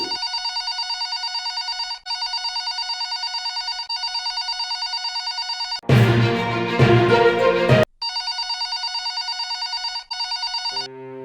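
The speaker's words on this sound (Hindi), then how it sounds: "फोन बज रहा है, फोन उठाओगी कि रोने का नौटंकी करोगी?" A telephone rings repeatedly in steady electronic bursts, interrupted midway by a loud stretch of other sound before the ringing resumes.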